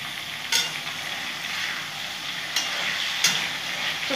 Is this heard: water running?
no